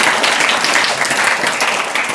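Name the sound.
applause at school farewell ceremony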